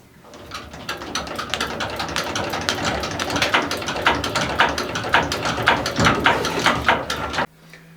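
A small tugboat's engine cranks and tries to catch, a dense run of rapid, uneven knocking bursts that lasts about seven seconds. Then it cuts off abruptly, leaving a low steady hum.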